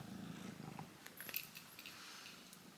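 A cat purrs steadily and close up, a soft low rumble with faint light jingling and clicks over it.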